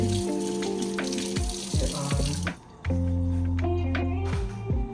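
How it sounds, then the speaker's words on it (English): A spoon is rinsed under a running tap, with steady close water flow splashing into a sink for about two and a half seconds, a brief drop, then the stream resumes with metallic clinks. "y'all know I'm just rinsing off the spoon real quick"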